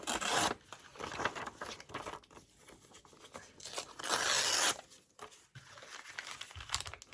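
Junk mail paper being ripped and crinkled by hand up close, with several quick tearing bursts and rustling handling noises between them, no talking.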